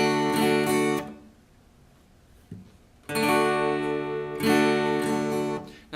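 Acoustic guitar strumming chords with a mix of down- and upstrokes, played fairly slowly during a song lesson; two bright strummed phrases, a near-silent pause with one soft tap between them, then a final strummed phrase, close and loud.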